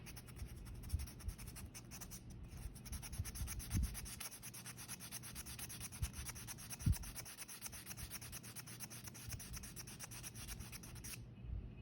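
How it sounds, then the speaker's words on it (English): Nail buffer rubbed over fingernails that have just been filed, during an acrylic press-on nail application: steady, soft rhythmic scrubbing strokes close by, continuous for about eleven seconds with no talking. "you're gonna take your buffer and you'll just buff it."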